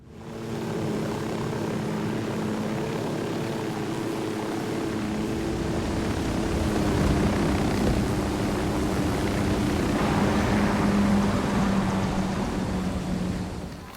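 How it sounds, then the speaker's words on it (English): A drone in the Ghost Recon Wildlands video game lifts off and flies with a continuous whirring propeller drone that swells slightly midway and holds steady for the whole stretch, with no voices heard. "Drone is airborne."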